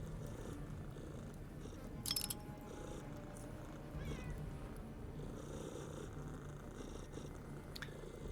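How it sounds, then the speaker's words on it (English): A continuous low purring from cats in the video game Underrail rolls on without a break, close but soft, with a brief meow-like chirp midway and a couple of faint clicks from the game. "Beautiful purrs."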